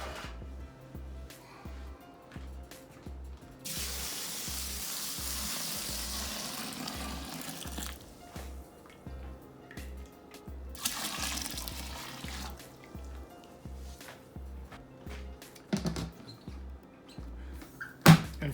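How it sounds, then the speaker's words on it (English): Water poured into a container of currant berry wine must, a sustained rushing, splashing pour lasting several seconds in two stretches, with a regular low mechanical hum underneath and small handling knocks. "Let's add our water."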